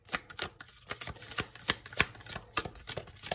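Tarot cards being shuffled by hand, a quick series of soft riffling snaps and slaps in an irregular rhythm, close and fairly quiet with no talking.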